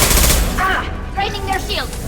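Gunfire from the video game Mass Effect 2 crackles through a short firefight, loud bursts layered over voices and game effects.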